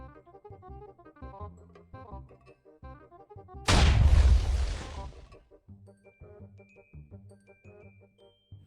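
A Minecraft TNT block detonates in one loud, roaring blast that swells and fades over about a second and a half, cutting through light chiming game music that plays before and after.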